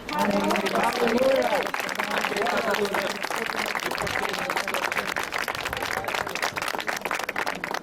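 Congregation applause during a Portuguese-language church service, a dense roar of clapping sustained throughout with voices mixed in beneath it.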